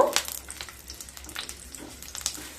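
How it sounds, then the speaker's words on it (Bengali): Garlic cloves, six or seven of them, sizzle in hot oil with a soft crackle that swells in brief bursts over a low steady hiss, close by and fairly quiet. "এবার 6-7 কোয়া রসুন দিয়ে দিলাম। রসুনগুলোকে হালকা ভেজে নেব।"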